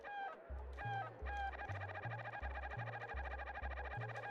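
Chickens cluck in the Secret of Evermore video game, with repeated short harmonic squawks in quick bursts over a steady pulsing low game music bass line.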